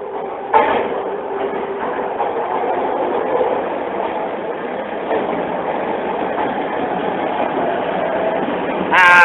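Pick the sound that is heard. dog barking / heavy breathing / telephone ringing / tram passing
tram passing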